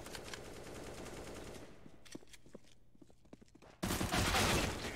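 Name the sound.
gunfire in Counter-Strike video game match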